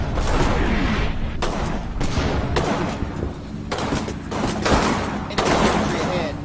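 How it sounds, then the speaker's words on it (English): German artillery and gunfire from the WWII strategy game Combat Mission Final Blitzkrieg, repeated loud booming bursts and crackling volleys in close succession, dense and sustained. "That's, by the way, German artillery."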